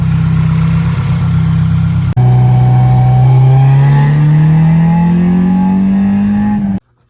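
An Acura Integra engine runs close by, a steady hum that cuts off briefly, then returns with a pitch that climbs slowly as it revs before stopping abruptly.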